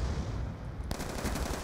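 Gunfire sounds in Call of Duty Black Ops 2 multiplayer: a rapid burst of automatic shots crackles at moderate volume with no voices, and the firing grows sharper partway through.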